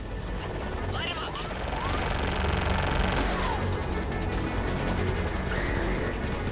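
In Mass Effect, weapons fire on ground targets in a dense, continuous barrage of gunfire and booming blasts, with radio voices talking over the combat noise.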